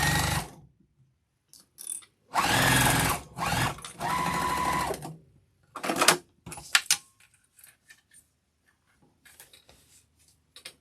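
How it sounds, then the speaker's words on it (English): Sewing machine stitching down the side seam of a Nantucket boxy bag, running in several bursts of steady whirring with short pauses, then lighter handling clicks and rustles near the end. "just stitch down the side"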